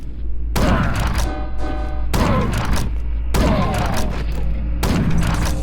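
Shotgun blasts in Chasm: The Rift, four loud, close booms spaced roughly a second apart, each with a ringing, decaying tail over a steady low hum.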